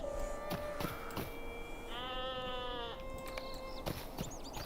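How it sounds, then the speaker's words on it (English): Sheep bleating in the fantasy game Lord of the Rings Online, a couple of wavering, nasal bleats at moderate distance over a soft, steady ambient bed. "Jeez, sheep."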